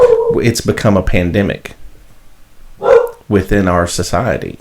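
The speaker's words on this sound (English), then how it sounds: "She hears my voice, so she's barking." A dog barks intermittently in the background of a podcast recording, partly buried beneath a man's steady, close talking, with a louder burst during a brief pause in his speech.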